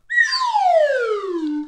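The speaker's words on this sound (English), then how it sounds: "and then I have my slide whistle and I go" Slide whistle played in a music lesson, a single loud, clear downward glide lasting over a second, falling steadily in pitch, alone with no talking.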